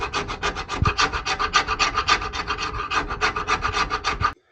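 Undercoating or bed liner is scraped off an MGB car body in a fast, steady series of harsh rasping strokes, close and loud, before stopping abruptly.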